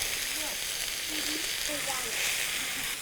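Onions and mushrooms sizzle in a pan of steak fat, a steady bright hiss of frying with faint stirring clinks, close and constant.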